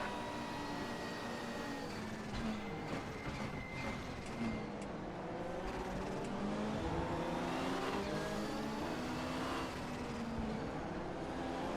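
Race car engines drone steadily in a racing video game, several rising and falling tones overlapping as cars run side by side, with a continuous moderate level throughout.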